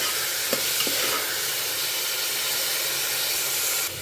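Vegetables and spices for masala khichdi sizzling and frying in a pan while being stirred, a constant loud hiss with a few soft clinks of the spoon early on.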